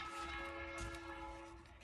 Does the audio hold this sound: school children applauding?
no